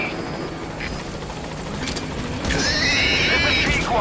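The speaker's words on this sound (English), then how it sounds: "Support helicopter requested. This is B-Quad. Arriving shortly at LZ." A support helicopter arrives in Metal Gear Solid V: The Phantom Pain, a droning rotor thrum that swells louder midway, mixed with horse whinnies and snorts nearby and brief clanking game sounds.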